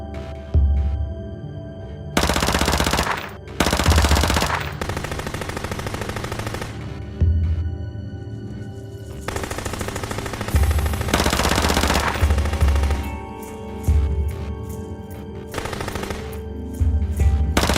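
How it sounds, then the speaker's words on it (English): Video game gunfire in a police shootout, with long bursts of automatic fire, several seconds each, separated by short pauses, loud and close, with no talking over the shots. "Shots fired. I repeat, shots fired."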